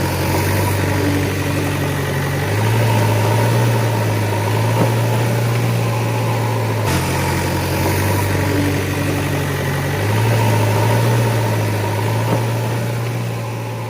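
Toy Tata tipper truck driven along with a steady, droning engine-like hum that shifts pitch partway through and repeats, loud and continuous with no talking.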